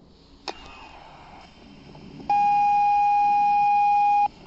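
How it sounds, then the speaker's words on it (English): A sharp click, then a loud, steady electronic beep tone from a 1980s CHiPs toy walkie-talkie holding for about two seconds before cutting off, over faint background hum. "Do you want to give us a beep again? Give us the beep."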